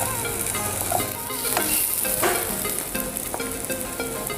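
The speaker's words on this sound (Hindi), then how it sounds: "अब हम इसमें कुटा हुआ लहसुन अदरक डालेंगे। अब हम इसमें गाजर डाल देते हैं।" Carrots sizzle steadily in a pan of olive oil with crushed garlic and ginger, a loud continuous frying hiss with occasional stirring scrapes.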